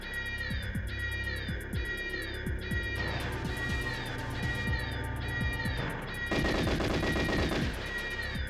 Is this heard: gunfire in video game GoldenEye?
yes